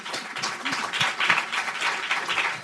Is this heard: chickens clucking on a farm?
no